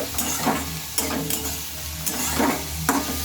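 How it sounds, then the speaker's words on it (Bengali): Cauliflower with garlic and chili frying in a pan, a steady close sizzle broken by several sharp scraping stirs of a spatula at irregular intervals. "আর এটা কিছুক্ষণ ভালোভাবে ভেজে নেব"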